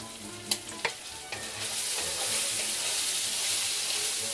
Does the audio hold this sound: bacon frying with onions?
yes